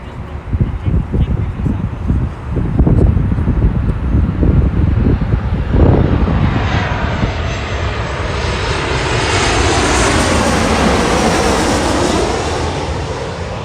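An airliner landing at Los Angeles International Airport on runway 24 right roars loudly, its engine noise swelling and then trailing off into a long whooshing rush as it passes.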